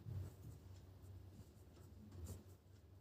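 Chalk or marker writing on a classroom board gives soft, faint scratching and rubbing strokes in short uneven bursts.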